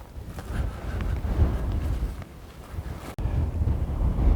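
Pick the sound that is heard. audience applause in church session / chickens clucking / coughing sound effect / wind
wind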